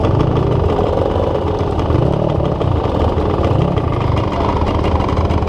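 A moped engine runs steadily and fairly loud throughout, a continuous mid-pitched drone with slight rises and dips, recorded outdoors during a New Year quad-bike race on rough ground.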